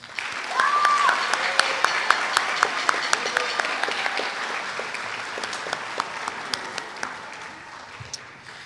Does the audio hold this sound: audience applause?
yes